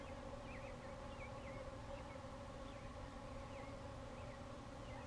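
Guard bees buzz around an open beehive during a hive inspection on a bee farm, a dense steady insect drone with swirling wingbeat tones close by and continuous throughout, with no talking.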